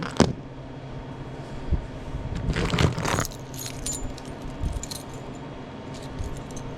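A keychain holding Subaru car keys jangles and clinks in bursts, with a sharp rattle near the start and a longer shaking spell midway, close up with no talk.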